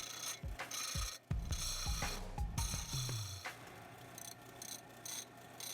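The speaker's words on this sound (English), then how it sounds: "I need to rasp these down, get the edges off." Wooden handles get their edges rasped down in a wood-turning shop, heard as a few uneven scraping strokes and clunks near the start, then a faint, steady rubbing texture.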